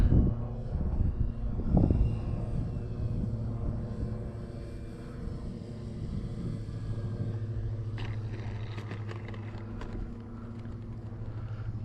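A steady engine drone hums throughout, with a louder rise near the start, as an RC model P-40B warbird plane flies past at a moderate distance.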